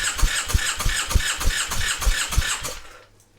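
A Triumph Bonneville motorcycle engine cranks over at wide open throttle during a compression test, with about ten even, rhythmic chugs close up before cutting off abruptly.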